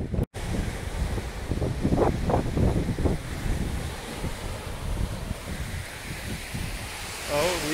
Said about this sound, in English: Made our way down to the beach.